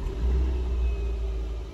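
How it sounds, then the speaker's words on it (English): The engine of a mk1 Toyota Yaris, fitted with an aftermarket start button, rumbles into life and settles into a steady, close idle with deep low hum. "I can show you the car starting up with a start button"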